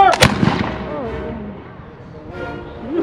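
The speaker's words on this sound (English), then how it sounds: "I think he's gonna fire the gun" Historical musket-style gun fired in a period demonstration at Colonial Williamsburg, a single sharp loud crack early on with a rumbling echo that fades, as people talk and react nearby.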